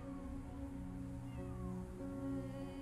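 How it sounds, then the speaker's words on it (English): A cat in the video game Copycat meows in drawn-out, wavering calls over a soft, sustained musical backdrop. "And this one will meow at absolutely anything that moves."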